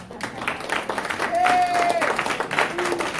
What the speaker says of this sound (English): Every one of you in this room, you should give yourself a round of applause.